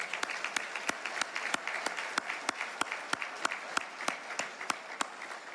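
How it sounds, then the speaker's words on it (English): Warm applause at an annual Louisiana business luncheon, a steady wash of clapping from a seated audience with distinct individual claps popping out rhythmically above the crowd. "Please join me in giving a warm round of applause"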